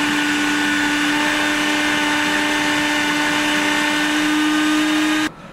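A food processor steadily whirring as it purees zucchini sauce with coconut milk and coriander, a loud, even motor drone that cuts off abruptly at the end.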